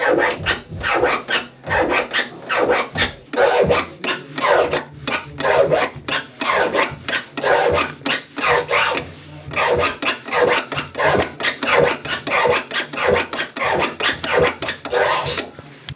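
Rapid repeated turntable boomerang scratching, back-and-forth rubbing bursts in a quick rhythmic pattern of slices and stabs with no voices.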